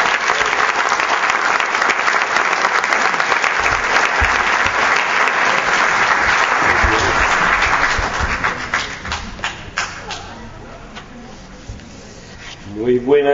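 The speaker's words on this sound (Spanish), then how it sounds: "Le damos la cordial bienvenida con un fuerte aplauso" An audience gives loud, sustained applause welcoming an archbishop, which swells for several seconds and then tapers off into scattered claps and room noise.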